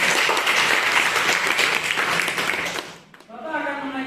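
Classroom full of students clapping loudly and steadily for about three seconds, fading into a short pause before a voice begins speaking.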